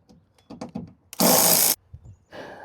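A power driver fitted with a T25 Torx bit spins out bolts on a 2025 RAM truck's light housing, one loud sustained whir of about half a second, preceded and followed by faint clicks and handling noises.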